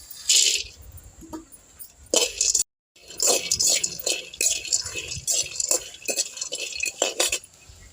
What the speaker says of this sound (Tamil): மிளகா வறுபட்டு வச்சு அதோட வேர்க்கடலை போட்டு வறுத்துக்கலாம்